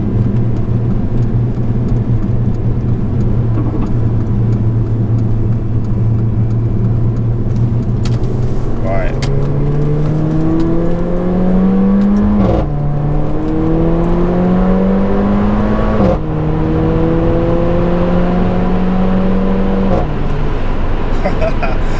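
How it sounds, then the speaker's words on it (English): A remapped Mercedes A45 pulls hard from second gear, its exhaust note rising loudly through the revs in several climbing sweeps with gear changes between them, close and continuous, with some talk underneath. "I really hope the camera's picking up that exhaust note as well"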